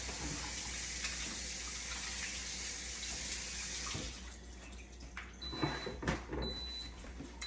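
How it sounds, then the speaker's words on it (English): Hands rinsed under a running kitchen tap, a steady close rush of water for about four seconds, then splashing and broken trickles as the hands move through the stream. "I'm gonna rinse my hands real quick."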